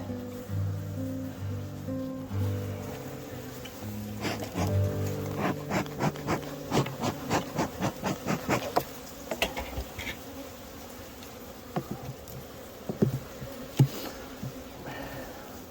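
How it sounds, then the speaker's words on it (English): A dense, continuous buzz of many honey bees close by at an open overwintered hive, with soft tapping and clicking sounds mixed in, fairly quiet overall. "It's a lot of bees."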